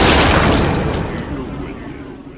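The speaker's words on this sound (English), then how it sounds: "I thought it was a flashbang grenade. It is." A flashbang grenade goes off in the video game Tales from the Borderlands, a loud broadband boom that fades over about two seconds, with no speech over it.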